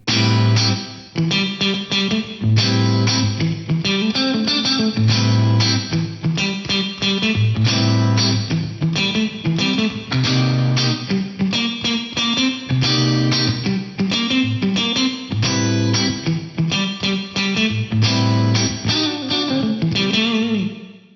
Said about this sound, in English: if you go in and you turn the decay time down to about 1 second, this is just a great all-around plate reverb